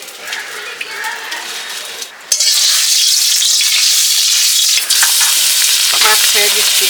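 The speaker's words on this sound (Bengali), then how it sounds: "মাছ ছেড়ে দিচ্ছি।" Fish coated in turmeric and salt drops into hot mustard oil in a wok and fries with a loud, steady, close sizzle that jumps up sharply and holds for several seconds, with a brief dip near the end.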